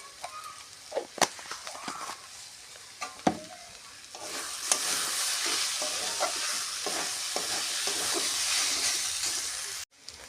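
A beetroot, potato and mung dal ghonto with whole poppy seeds is stirred in a pan, a spoon scraping with sharp knocks early on, then a steady loud sizzle and hiss from the cooking mixture.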